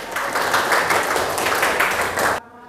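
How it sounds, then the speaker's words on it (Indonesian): Students in a classroom applaud together, a dense burst of clapping close by that holds steady for over two seconds and then stops abruptly. "Tepuk tangan."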